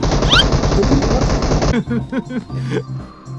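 Rapid automatic gunfire in PUBG Mobile, loud and close for the first half, then giving way to sparser, quieter shots and game sounds; no voices are heard.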